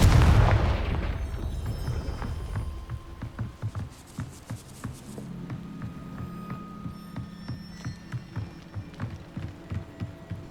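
A Confringo blasting spell goes off in Hogwarts Legacy: a loud, booming burst at the start decays into rumbling, followed by a long run of rhythmic patter and clicks with a low steady hum beneath.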